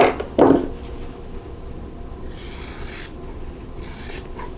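Rotary cutter or scissors trimming cotton quilt block fabric pieces, giving a couple of short rasping cuts near the start and faint scraping and rubbing afterwards, close and quiet with no talking.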